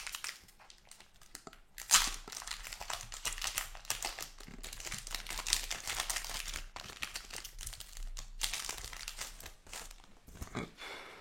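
A 2010 Pokémon card booster pack wrapper is torn open and crinkled by hand, producing soft, close crumpling and rustling foil noises throughout with irregular bursts, fairly quiet and without speech.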